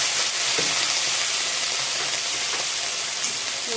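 Hot water hits a pan of frying cauliflower and paneer curry with spices, producing a loud, dense hiss and sizzle that continues steadily, with a few stirring clinks.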